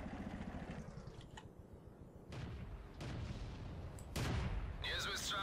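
Tank cannon fire in the World of Tanks video game: several sharp booms at irregular intervals over a steady engine drone, fairly loud and close, with a brief metallic ringing near the end.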